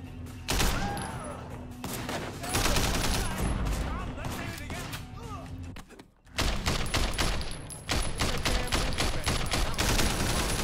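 Gunfire in the video game Sleeping Dogs, loud rapid bursts and fusillades that keep going almost without a break, with a short pause partway through, dense and close.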